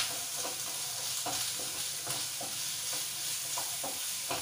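Ginger garlic paste frying in a pan for a curry gravy, a steady close sizzle with a spoon stirring and scraping at a loose irregular rhythm, and no voices.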